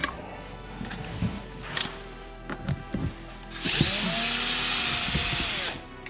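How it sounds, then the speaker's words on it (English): A power screwdriver whirs steadily for about two seconds, backing a T25 Torx screw out of a Ford Focus front door panel, following scattered clicks and handling knocks nearby. "Now we're going to take this T25 Torx out."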